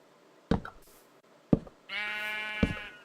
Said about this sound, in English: And I hear a sheep